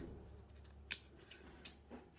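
Scissors cut paper for a handmade tag: a few quiet, sparse snips at irregular intervals over a low background hum, with no voices.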